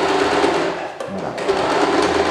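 A sewing machine runs steadily through fleece as it backstitches a snood, a fast, even whirr close up, with a brief pause and restart partway through.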